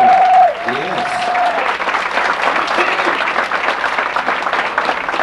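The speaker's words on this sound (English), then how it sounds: "Ladies and gentlemen, how about a nice round of applause?" Guests at a wedding reception break into steady applause after a whistle-like tone at the start, with clapping filling the space loudly and evenly to the end while faint voices mingle underneath.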